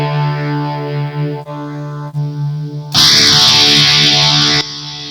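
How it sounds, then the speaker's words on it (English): An electric guitar runs through a LEKATO Cube Baby multi-effects pedal with amp modeling and spring reverb. It plays sustained, loud distorted chords that swell brighter and harsher midway before easing back, with no talking. "The reverb is definitely a spring sound."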